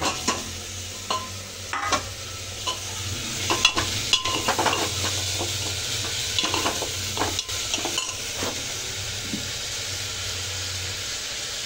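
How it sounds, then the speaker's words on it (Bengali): Green chili and tomato go into a hot pan while making moong dal paturi, with steady sizzling and frying hiss broken by intermittent stirring clinks and scrapes, close and moderately loud with no talking. "এই কাঁচা লঙ্কা টমেটোটাও দিয়ে দেবো।"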